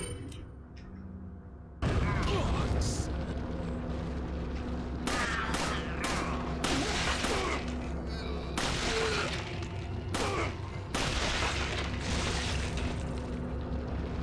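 Repeated gunshots from a Resident Evil 4 firefight, loud sharp blasts in irregular bursts over a steady game background, with occasional shattering and mechanical clatter.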